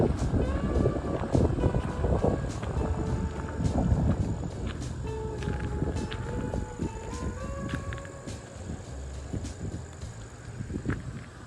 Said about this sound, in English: It's like 30-mile-an-hour sustained winds, probably from that hurricane